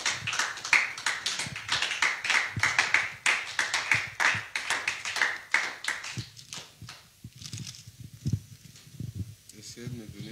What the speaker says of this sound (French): Est-ce qu'on peut donner des acclamations à Jésus?